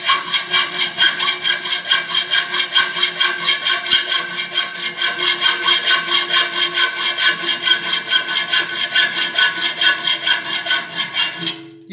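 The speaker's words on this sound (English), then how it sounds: "So I cut and I file mostly by hand." Steady hand sawing through metal for a Honda CT110 sidecar, even back-and-forth rasping strokes repeating throughout at close range, loud and continuous with no voices.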